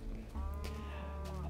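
A cow in the game Minecraft moos in a long, low, drawn-out call on a German farm, loud and close with faint background game sounds.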